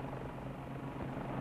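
Westland Lynx helicopter with its semi-rigid titanium rotor, a steady low droning rumble with a whirring tone, faint and continuous, with no talking.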